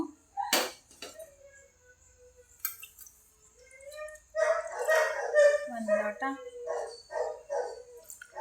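Dogs bark in a few short, sharp bursts, with people talking nearby for much of the time.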